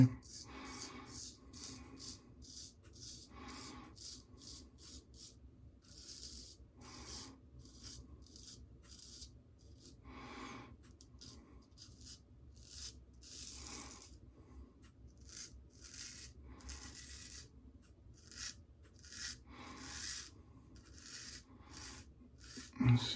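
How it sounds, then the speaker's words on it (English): Razor shaving stubble with the non-dominant hand, repeated short raspy scraping strokes in an uneven rhythm, quiet and close, with brief pauses between passes. "This is kind of weird shaving with my non-dominant hand."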